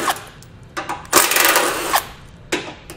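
A power tool drives bolts back into a Roadmaster crossbar-style base plate on a 2015 vehicle in short, loud whirring bursts separated by brief pauses.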